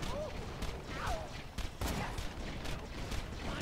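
Borderlands 2 gunfire: rapid bursts of shots crack in quick clusters while an excited voice talks over the action.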